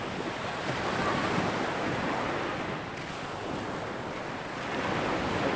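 Waves wash steadily onto a beach shore with a continuous broad surf rush and some wind buffeting, with no voices.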